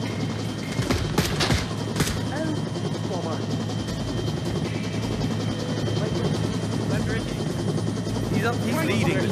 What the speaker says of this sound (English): We're going to the helicopter.